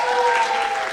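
Wedding reception guests applaud the couple at Edgewater Manor Restaurant, a brief burst of dense clapping with a thin ringing tone held through it.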